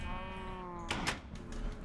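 Minecraft cows give a drawn-out lowing moo, followed by a couple of sharp clicks and a softer second call, close and clear against quiet game ambience.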